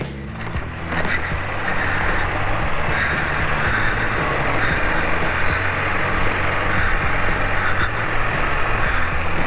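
Yamaha Xmax scooter being ridden, a steady engine drone and road rumble with wind noise running continuously throughout, fairly loud and close, with no talking.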